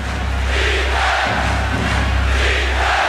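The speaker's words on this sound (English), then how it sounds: "And the chant of defense from this capacity crowd." A capacity crowd in a basketball arena at a 1992 Bulls–Knicks playoff game roars steadily and chants for defense, a dense, loud, continuous wall of voices with no single speaker standing out.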